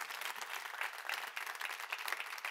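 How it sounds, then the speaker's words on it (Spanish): A congregation gives steady, dense applause at a faint, distant level, with many hands clapping continuously and no talk over it. "dale bien fuerte ese aplauso a Jesús"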